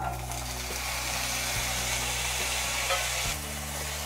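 Small-cut medium potatoes dropped into hot ghee for sabudana khichdi, a loud close sizzle with a couple of stirring scrapes, no one speaking.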